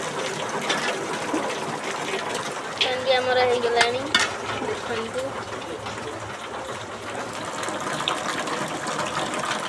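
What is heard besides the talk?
heavy rain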